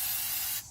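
Paint remover sprays from an aerosol can onto a Glock pistol, a loud, close, continuous hiss that cuts off abruptly.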